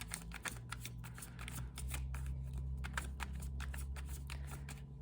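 A deck of playing cards is shuffled in a quick series of crisp riffles and flutters, close and fairly quiet, with a low steady hum underneath.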